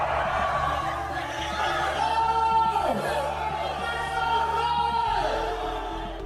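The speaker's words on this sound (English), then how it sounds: "I told y'all, they're literally cheering, They're cheering for me" A large crowd of fans roars and chants in a loud, continuous wall of massed voices that swells and holds throughout, with no single speaker standing out.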